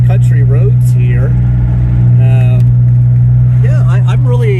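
A DeLorean DMC-12 cruises along country roads, its steady low engine drone and road hum running continuously beneath someone talking throughout.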